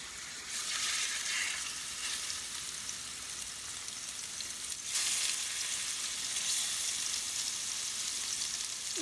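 Pork chops frying in a very hot pan, a steady broadband sizzle that jumps louder midway as more meat hits the fat, then holds a dense crackle with no voices.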